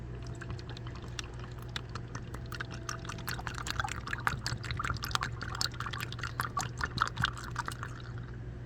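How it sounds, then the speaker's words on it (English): Motor oil glugging from a bottle into the engine of a 2009 Nissan Altima: a steady, close pour with gurgling bubbles and splashes that runs unbroken throughout. "we're coming up here and we're gonna put the oil in."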